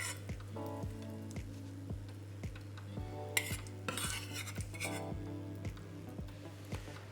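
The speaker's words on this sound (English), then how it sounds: "So I'm going to drain off the sage leaves." Fried sage leaves are lifted out of browned butter in a pan, with steady close sizzling and repeated light metal clinks and scrapes of a utensil against the pan.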